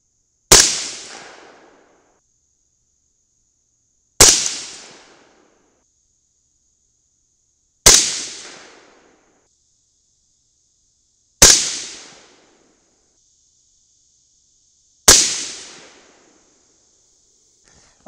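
Five loud, close rifle shots from Mk 262 clone loads with Nosler bullets over AA2520 powder, each a sharp crack with a long fading echo, fired at a steady pace about four seconds apart with no talking.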